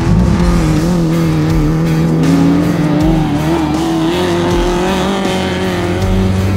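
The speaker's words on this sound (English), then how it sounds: "You got power in the back, and then you got clutch in, ignition, fuel, and then push start." A Baja Bug race car's engine runs loud and steady close by after a push start, its rough note holding throughout with slight shifts in revs.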